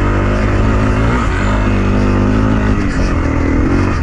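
A dirt bike engine drones loud and close, revving steadily as it climbs a dusty hill on a dry off-road ride, with no voices over it.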